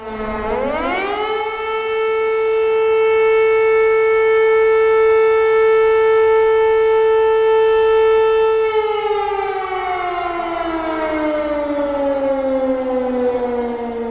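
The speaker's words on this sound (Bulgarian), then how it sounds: "Точно в 12 часа звучаха сирените в знак на почет към делото на Ботев" Civil defense sirens sound at noon in Targovishte, Bulgaria, for the June 2 commemoration of Botev, a loud rising wail that holds a steady tone for several seconds before slowly falling in pitch, with no talking.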